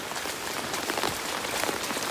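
Heavy rain pouring down in a steady dense hiss, with scattered drops striking a surface close by and no voices.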